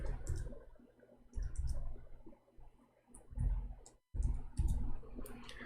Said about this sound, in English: Oh boy, I'm typing in English again.